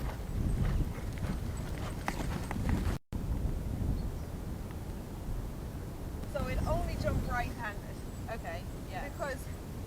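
Horse hooves clip-clop at a steady walk while a rider sits sidesaddle outdoors, wind buffeting the microphone, with a person talking over part of it.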